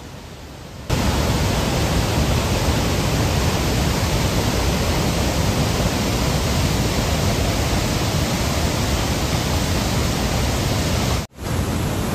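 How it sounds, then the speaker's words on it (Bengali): Krang Suri waterfall in Meghalaya, India, its water rushing down at high speed: a loud, steady, close roar that starts abruptly after a second and runs unbroken, dropping out briefly just before the end. "একবার শুধু দেখুন জলের স্রোতটা, মানে প্রচণ্ড গতিতে নেমে আসছে।"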